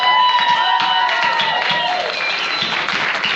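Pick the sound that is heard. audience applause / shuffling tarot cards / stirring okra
audience applause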